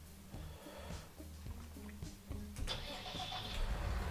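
A tractor engine in Landwirtschafts-Simulator 19 cranks with a rapid chugging rhythm, catches and settles into a rough, louder idle, all close and without talk.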